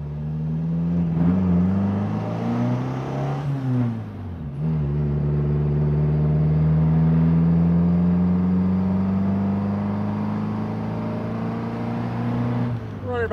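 A 1957 Triumph TR3A sports car cruising at about 30 mph on a road, its engine humming steadily with a brief dip in revs around a gear change, the exhaust note close and continuous.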